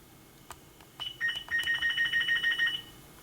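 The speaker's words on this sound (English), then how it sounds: "And I will be right back. I have a phone call." A telephone rings in a rapid electronic warble, a repeating trill of short bursts lasting about two seconds, fairly clear above a quiet background with a few faint clicks before it.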